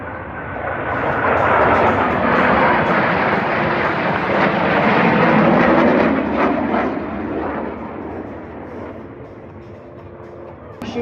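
US Navy Blue Angels jets fly a demonstration over Seymour Johnson Air Force Base, a loud, broad jet roar that swells, holds, then gradually fades as the aircraft pass.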